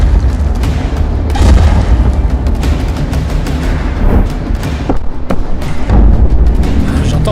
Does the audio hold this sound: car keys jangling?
no